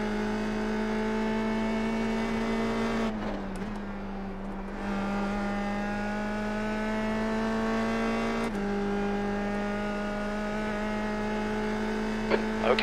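A USF2000 open-wheel race car at Oulton Park in iRacing, its engine droning at a steady high pitch with a brief dip in revs, a lift and then a climb again, loud and continuous throughout.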